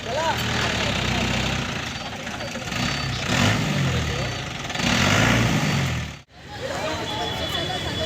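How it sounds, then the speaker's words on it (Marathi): A car engine hums steadily while driving, swelling and easing as it runs, with a brief dropout near the end and people talking over it. "भाई अब गाडी चलाएगा"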